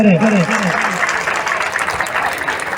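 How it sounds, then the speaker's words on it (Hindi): Audience applause at the opening of a coaching tutorial centre in a village market area, steady broadband clapping that follows a speaking voice in the first second, then continues on its own at moderate loudness. "मैं चाहूंगा एक बार सभी लोग जोरदार तालियों से अभिवादन करें।"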